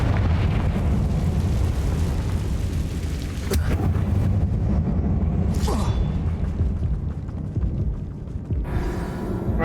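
Fiery Confringo spell blasts in Hogwarts Legacy inside a closed tomb, a continuous loud rumbling roar with sharp bursts around the middle, tailing off toward the end.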